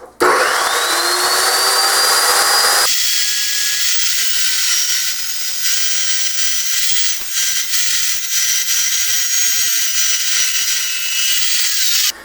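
An Evolution power saw trims a little off the edge of a clamped piece of wood, with a loud whining motor that drops in pitch as the blade bites into the cut and holds a steady, grinding drone to the end.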